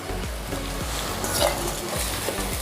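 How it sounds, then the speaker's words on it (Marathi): Spinach tipped into a pan over a low gas flame, sautéed with red chilli powder for palak dal, giving a steady sizzle with stirring scrapes and low rhythmic pulses throughout. "यावर आता पालक घालायचा आहे"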